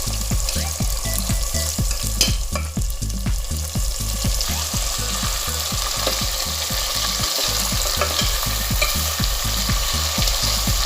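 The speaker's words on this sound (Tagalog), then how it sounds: "Fry lang, huwag i-fry masyado kasi gagawin natin yung curry." Chicken shallow-fries in oil for an Indian curry, a loud steady sizzle and crackle close up that runs without a break, with faint stirring scrapes and no talk.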